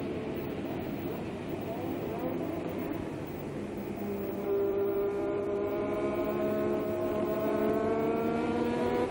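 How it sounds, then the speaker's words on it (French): Formula 1 turbo engine at the Österreichring in 1983, a sustained loud engine note whose pitch climbs steadily as the car accelerates, with steady background noise throughout. "Et voilà, on entend le fonctionnement du moteur turbo."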